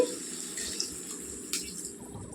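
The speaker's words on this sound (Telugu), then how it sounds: "నీళ్ళు వేసుకుందామండి" Water is poured into a pan of frying chilli powder for a brinjal and potato curry. A brief splash opens the clip, followed by a soft watery hiss and a few faint clinks nearby.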